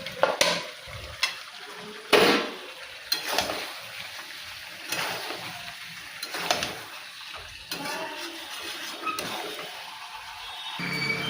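Fried potatoes going into a pan of browned chicken curry, stirred with scraping strokes over a soft sizzle, with several sharper clatters and pushes of the spoon against the pan.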